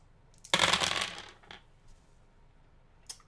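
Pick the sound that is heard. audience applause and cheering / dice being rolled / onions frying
dice being rolled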